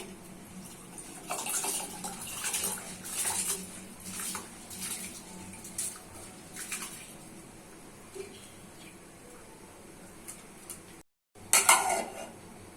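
Rice being added to a pot of hot salted water makes clattering and scraping of metal utensils against pots, with watery splashes and irregular bursts, a brief gap near the end and then a louder clatter; no talking.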